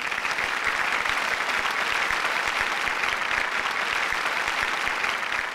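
Sustained audience clapping in a Tamil movie scene, dense and even throughout, many hands applauding together at a steady loud level with no voices on top.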